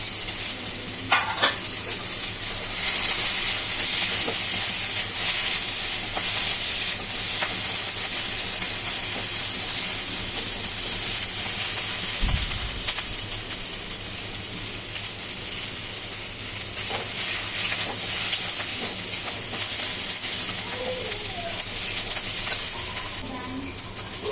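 Chopped ginger and garlic fry with lightly browned onion in hot oil, giving a steady, close sizzle and hiss throughout with occasional stirring clatter, while a low hum runs beneath.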